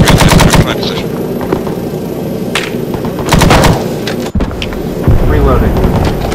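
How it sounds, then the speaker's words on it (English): Loud bursts of helicopter-mounted machine gun fire in Arma 3 from an OH-6 Cayuse, rapid rattling volleys in several separate strings with pauses between, close and dominant. "Do you see where I'm firing these MGs right now?"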